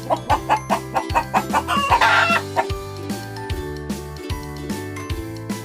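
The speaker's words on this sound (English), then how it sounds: "This is hen." A hen clucks in quick repeated bursts at close range, loud and clear, set over a light jingly children's music backing.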